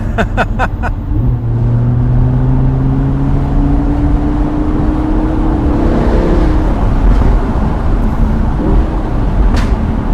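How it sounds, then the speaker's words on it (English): A tuned car exhaust gives a quick run of sharp pops and crackles on the overrun, then a steady engine drone while driving, with one more crackle near the end. "this exhaust has been tuned for some amazing pops and crackles on the overrun"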